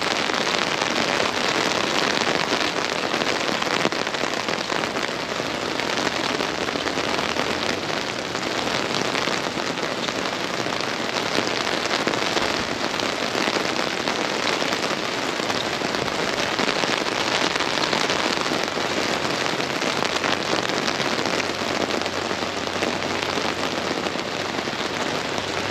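Steady rain falls throughout a walk outdoors, a dense, continuous hiss of drops hitting surfaces close by, loud and unbroken with no voices.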